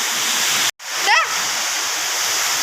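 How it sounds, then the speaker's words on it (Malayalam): Sudden heavy summer rain pours down in a dense, steady roar, close and loud, broken by a brief cut of silence, and a whistling voice is heard over it. "പെട്ടെന്നൊരു സുപ്രഭാതത്തിൽ ഇത്രയും നേരം വെയിലായിട്ടും നല്ല മഴ."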